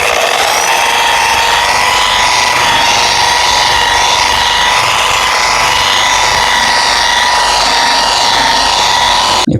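A GEVEELIFE electric buffer polisher runs with a polishing pad fitted, giving a loud, steady motor whine close by that holds an even pitch throughout before cutting off at the very end, with no talking.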